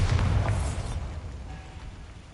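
Bombarda spell blast in a Harry Potter video game: one loud, deep boom that rumbles and fades over about two seconds, heard alone.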